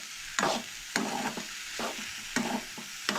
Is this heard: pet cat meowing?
no